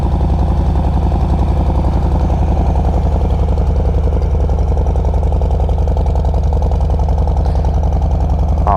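A 2022 Harley-Davidson Street Bob 114 motorcycle engine runs steadily at close range, a deep, loud, evenly pulsing idle throb that continues without a break and with no talking.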